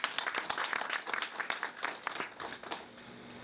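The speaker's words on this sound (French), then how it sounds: "Et je vous demande de nous applaudir" Audience applause at an RDR political meeting with a minister, a short burst of clapping from a crowd, fairly faint, fading over the last second.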